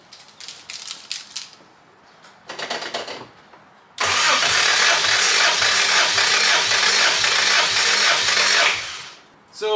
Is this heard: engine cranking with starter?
yes